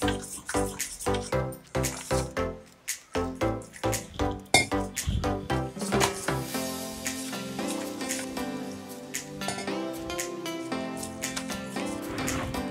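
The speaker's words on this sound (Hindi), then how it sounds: "अब इसमें थोड़ा सा पानी डालकर इसका घोल तैयार कर लेंगे।" Water being mixed into gram flour batter for dhokla, with rhythmic, ringing clinks and wet sloshes from stirring in a bowl, repeated quickly and close by with no speech.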